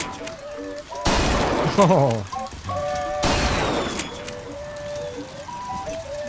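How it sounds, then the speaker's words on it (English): Gunfire rings out at a BioShock Infinite shooting gallery in the video game, two loud bursts of rapid shots with ringing, whistling tones between them over jaunty music, and a voice speaks briefly. "Now take aim and blast those evil Vox out of the sky."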